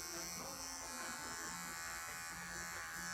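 Cordless Wahl clipper with a size 30 blade trimming hair on a small dog's paw, a steady close electric buzz running without a break, with faint talk underneath.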